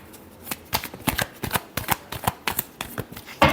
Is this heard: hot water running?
no